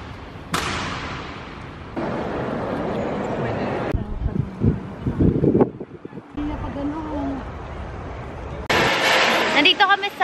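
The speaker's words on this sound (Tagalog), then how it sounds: "grabe yung hangin. Umuulan kasi." Strong gusty wind in the rain at Chiang Kai-shek Memorial in Taipei, buffeting the microphone in loud irregular bursts and thumps, with a voice speaking over parts of it.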